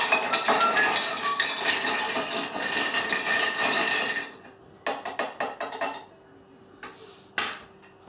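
Ice cubes clink and rattle rapidly against glass as a bourbon Old Fashioned is stirred, a continuous burst, then a few slower, separate clinks follow with pauses between.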